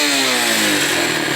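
Engine of a 2021 Apollo Blazer 125 ATV, already smoking under throttle, revving in a steady loud drone with a gently falling pitch, close and alone.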